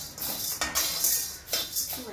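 Metal utensils clink and scrape against a pan while chana dal roasts over medium heat for molaka podi, a handful of sharp, close clatters in quick irregular succession.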